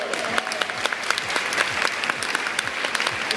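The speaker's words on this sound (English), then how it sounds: "Give yourself a round of applause." Round of applause from a small group of attendees at a hair-colour training session, distinct individual claps close by forming a steady patter that runs on without speech.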